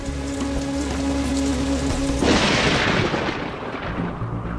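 Heavy monsoon rain pours down in a dense, steady roar, loud and close throughout, with a surge of hissing intensity midway as the downpour thickens over wet ground and foliage.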